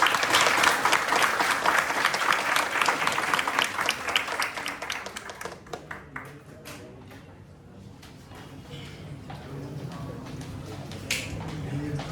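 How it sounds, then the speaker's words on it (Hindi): A big burst of audience applause, dense and loud at first, then thinning out into scattered claps before a brief swell near the end. "सो जोरदार तालियों से स्वागत।"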